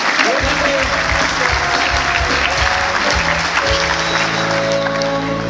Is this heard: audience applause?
yes